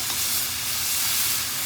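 Veal cutlets with heavy cream cooking in a pan give off a steady, even hiss and sizzle that lasts the whole time, close and at constant loudness, with no talking.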